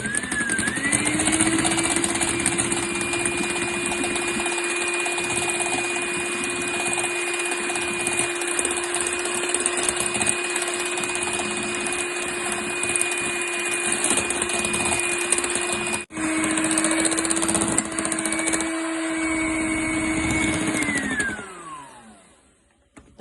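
Electric mixer whipping egg whites with sugar for a meringue roll, a steady, loud motor whine with a constant pitch that holds for about twenty seconds, then winds down and stops.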